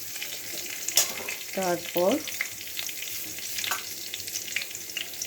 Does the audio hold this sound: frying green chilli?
yes